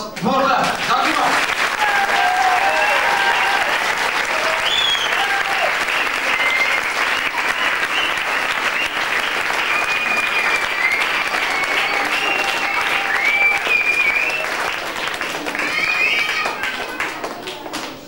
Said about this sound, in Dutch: een geweldig applaus voor ons